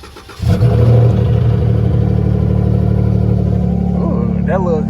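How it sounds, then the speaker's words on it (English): A Dodge Charger V6 cranks and catches with a sudden roar, then holds a loud, steady idle close by, with a short rising rev and a brief voice near the end. "Ooh, that little V6 sounded like it got some power."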